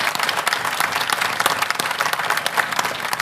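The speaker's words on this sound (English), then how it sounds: "I want to call for a round of applause for Paul and his team for this year's show." Dense applause from the audience at a Macworld main-stage roundtable, a full crowd clapping steadily and loudly throughout.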